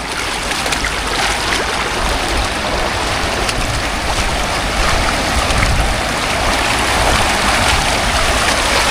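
A strong river current rushes loudly and continuously, a broad close wash of flowing water with no voices over it.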